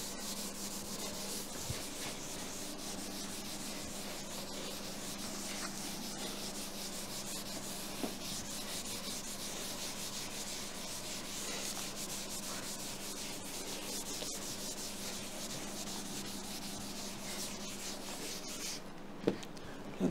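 Writing erased off a board, a long continuous rubbing and scraping close by, steady and unbroken with a faint background hum.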